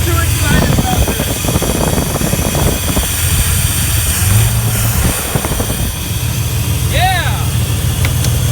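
A revived GMC race truck engine runs with a steady low rumble throughout, while excited voices talk and shout over it.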